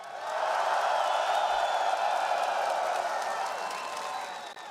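An esports arena crowd cheers and applauds loudly after a PGL Astana Counter-Strike playoff quarterfinal game, a dense, sustained roar filling the space at close range.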